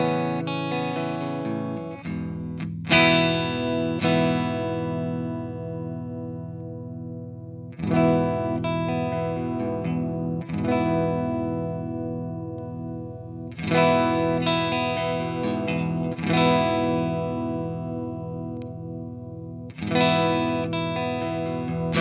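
An electric guitar played through a Fortin Cali amplifier with added effects rings out in repeated strummed chords, each left to sustain and decay with chorus-like shimmer and echo before the next strum, loud and alone.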